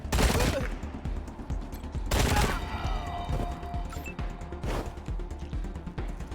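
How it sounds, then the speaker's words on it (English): Shotgun blasts in the video game Wasteland 3, three loud booming shots spaced about two seconds apart, each with a sharp attack and a ringing tail, over faint game ambience. "Marshal Quan, can you shoot this guy a few times for me?"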